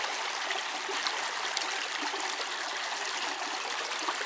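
Water in a creek rushes and babbles continuously, a dense, even wash of flowing sound with small splashy flickers throughout and no voices.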